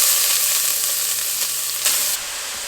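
Carrot frying in hot oil with cardamom for gajar ka halwa, a steady close, loud sizzle with brief stirring bursts and no talk.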